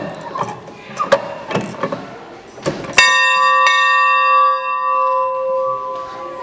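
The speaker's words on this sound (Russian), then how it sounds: "того самого колокольчика, который дает сигнал к отправлению поезду" At a steam locomotive museum in Omaha, a train departure bell is struck after some clattering knocks, then rings out loud and close with a long, sustained metallic tone that slowly fades.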